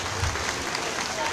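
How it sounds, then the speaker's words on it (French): A crowd at a Maoulid celebration in Abidjan claps for itself in a dense, steady burst of applause that fills the whole moment, with a voice faintly mixed in. "Est-ce que vous pouvez vous applaudir très très fort,"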